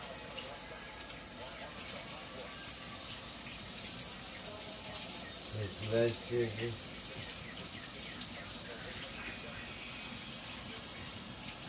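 Warm tap water runs into a container for a homestead animal, a steady faucet hiss throughout with a brief louder gush partway, while a person speaks briefly.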